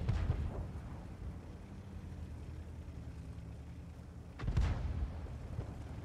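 Artillery fires in World of Tanks: two heavy, booming shots, one at the start and another a few seconds later, each rumbling away over low battlefield noise.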